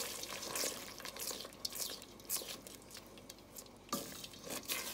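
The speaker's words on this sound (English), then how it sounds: "gonna add a cup of tomato sauce. We're gonna mix that in." Tomato sauce being mixed into an Indian red curry in a pot, faint wet stirring and scraping strokes over a low simmering sizzle, with a few light utensil knocks.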